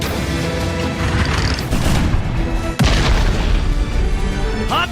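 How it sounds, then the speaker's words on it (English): Cannon fire in the Grand Kingdom video game: loud, dense booming explosions rumbling continuously, with one sharp crack and blast partway through, over a busy battle din. "Get to cover! We got cannon support incoming!"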